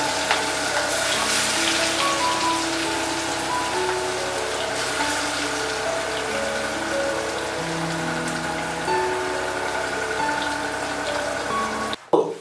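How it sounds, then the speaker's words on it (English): Marinated shrimp fry in sunflower oil for a Kerala-style prawn roast, crackling and sizzling steadily like light rain, close and continuous with soft music behind and no speech. "she started frying it in sunflower oil"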